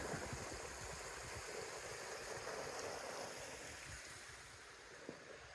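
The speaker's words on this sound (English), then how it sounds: "Look how much water is coming out of the pipe here." Water gushing steadily out of a pipe into a pond outdoors, a continuous broad rushing and splashing with some wind noise, unchanging throughout with a small knock near the end.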